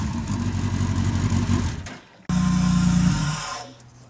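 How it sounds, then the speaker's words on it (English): Modified Mini of around 200 horsepower and 750 kilos, built with Commodore and Jaguar parts, its engine revving loudly up close, cutting out briefly, then surging again before easing back. "Give it a rev."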